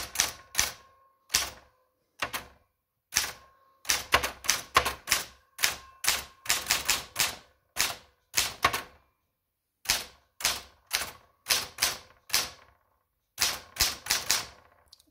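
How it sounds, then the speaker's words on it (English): Keys struck on a restored 1939 Adler Model 32 vintage typewriter, sharp close clacks in bursts of quick strokes separated by short pauses, with no talking. "It's got a lovely clicky sound to it, and you can see it is indeed a wonderful typewriter."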